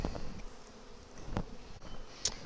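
Honeybees buzz steadily around an opened hive, a three-deep nuc being moved into a double deep, with a few brief louder passes close by against a faint, continuous hum.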